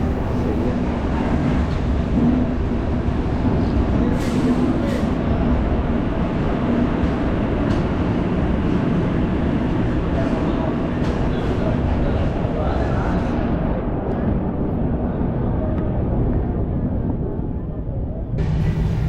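The Sampark Kranti Express rolls slowly through Guntakal Junction without stopping, producing a steady low rumble and rattle of wheels and carriages heard from inside, continuous and loud with a few brief clanks.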